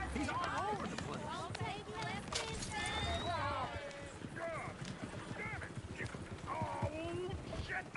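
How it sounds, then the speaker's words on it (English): Galloping horses in the video game Red Dead Redemption 2 produce continuous rapid hoofbeats and occasional whinnies, dense and close, layered with game sounds and overlapping voices. "Oh, shit, the horses!"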